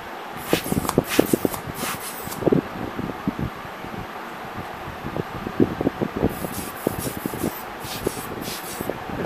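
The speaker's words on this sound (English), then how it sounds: "And the final thing is a pump." A lens cleaning kit air blower pump puffs air in repeated soft bursts, close and breathy, with short rustling handling noises between the squeezes.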